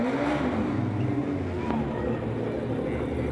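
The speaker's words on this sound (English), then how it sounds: "So we've got a skid car coming out" Engine of a skid car at a D1NZ pro drift round in Wellington, a steady mid-level motor drone with a slight rise in pitch as it rolls out onto the track, heard at some distance under faint background noise.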